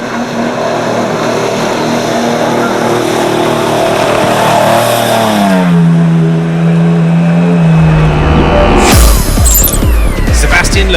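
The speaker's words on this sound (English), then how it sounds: "Stefan Petterhansel was impressive in his Peugeot." Peugeot rally car racing on a 2016 Dakar desert stage, its engine loud and close with rising and falling revs and a gear shift, then a burst of gravel and wind noise near the end.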